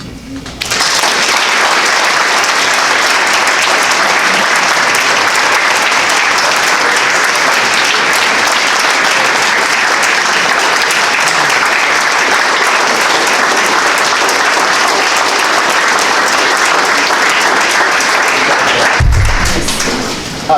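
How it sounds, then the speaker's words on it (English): Sustained applause fills a legislative chamber as members of the Ohio House of Representatives, 134th General Assembly, adopt a resolution honoring an educator; the clapping stays loud and steady for about eighteen seconds, then stops abruptly. "the members of the House of Representatives of the 134th General Assembly of Ohio, in adopting this resolution, applaud Jill Weaver on a recent accolade"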